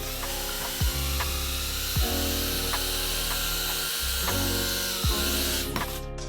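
FPV drone motors spin propellers at low throttle, making a loud, close, steady electric whine and buzz with small pitch shifts and brief bumps as throttle changes, continuous throughout.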